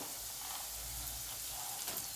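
Raw peanuts fry in oil with already-sautéed potatoes for a fasting bhagar dish, giving a soft, even, continuous sizzle throughout with no talking.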